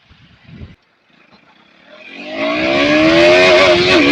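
A KTM Duke 200 motorcycle accelerates hard while racing a BMW X7. A short clatter and a brief hush come first, then the engine note climbs steadily in pitch and grows loud and close.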